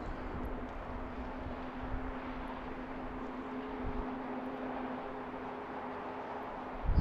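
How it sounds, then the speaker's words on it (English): An Airbus A321neo airliner at Baltimore's BWI airport gives off a steady, broad jet roar with a faint hum, holding an even level throughout with no talking. "That'd be an Airbus A321 Neo."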